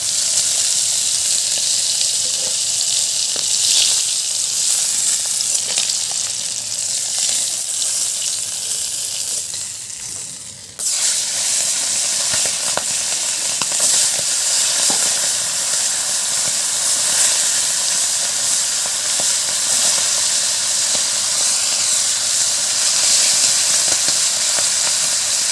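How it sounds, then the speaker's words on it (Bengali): Pomfret fish frying in hot oil sizzles with a steady, dense hiss that runs throughout, dipping briefly about midway before resuming at full strength; no one talks. "মাছগুলো অল্প করে ভেজে আমি তুলে নেব।"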